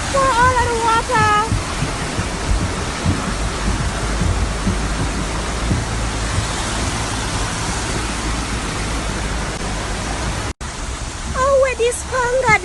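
Floodwater rushes along a road in Ocho Rios, Jamaica, a constant broadband roar like a torrent filling the whole stretch. Birdsong chirps at the start and end, and a brief cut interrupts it near the finish.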